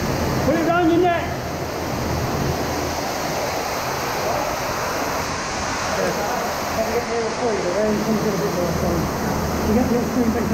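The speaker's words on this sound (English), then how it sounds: "Is there another waterfall there? Yeah, it's smaller, I mean, that's the big one." A waterfall inside an underground river culvert gives a steady, loud rushing roar of falling water echoing in the tunnel, with people talking faintly beneath it.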